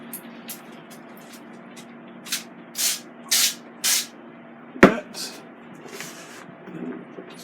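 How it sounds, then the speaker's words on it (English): Cooking spray misted onto breaded jumbo chicken dogs for a Ninja Foodi XL air fryer grill: several short close hissing bursts in a loose rhythm, then a sharp clack and softer rustling, over a faint steady hum. "I'm going to spray the chicken."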